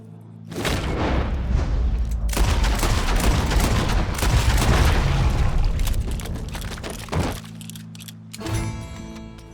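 Gunfire in Red Dead Redemption 2, loud booming shots and a sustained roar of blasts followed by a couple of softer thumps near the end, heavy and close.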